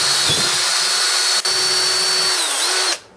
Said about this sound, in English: I'm going to pre-drill my holes here.